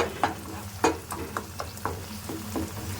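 A cauliflower curry for chapati or puri fries in a pan, giving a soft steady sizzle with a series of sharp, close scrapes and clicks as it is stirred.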